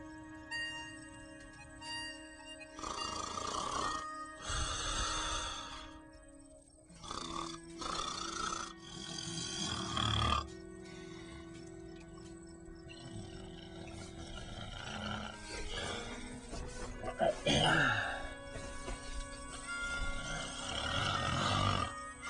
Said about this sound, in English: Oh, no humanoid can snore like that.